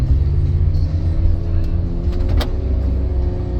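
A 2013 Nissan Cube is driven and accelerates, heard from inside the cabin as a steady, loud, low engine rumble with a brief higher rattle partway through.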